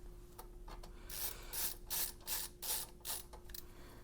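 A screwdriver turns power supply screws into a Gateway E-3200 computer case, with a few light clicks followed by a series of rhythmic ratcheting rasps at close range, and no speech.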